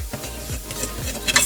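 A fork stirs a butter and flour roux in a pan for mac and cheese, giving soft scraping strokes over a low sizzle, close and steady with no talk.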